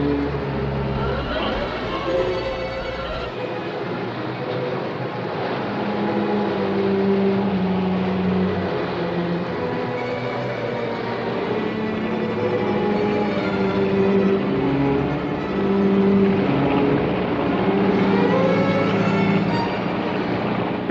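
A boat engine runs at sea with a steady, rumbling drone that holds through the whole passage, loud and close, with a deep low throb and a few shifting tones under spoken narration.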